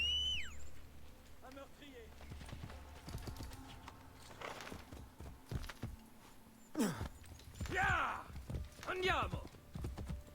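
Horse hooves clip-clop in the video game Assassin's Creed Brotherhood, a steady trotting patter under game sounds and brief voices.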